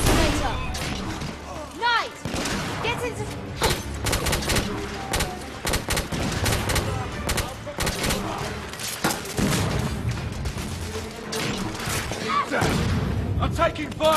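Gunfire in the video game The Order: 1886 crackles in rapid, irregular bursts and heavy booms across a shipyard and warehouse battle, with sharp shots clustered close together and characters shouting between volleys.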